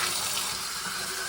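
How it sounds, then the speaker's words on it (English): Hot water running from a tap into clean, empty canning jars, a steady broad gushing hiss with no pauses, close and fairly loud. "you fill them with some hot water"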